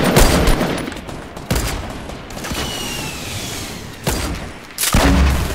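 Gunfire in the Fortnite video game, heavy bursts opening and closing the stretch with sustained loud, rumbling battle noise between them.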